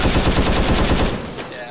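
Sustained machine gun fire in the Vietnam-era military video game Arma 3: a loud, rapid, steady burst of shots that stops abruptly partway through, leaving a fading tail.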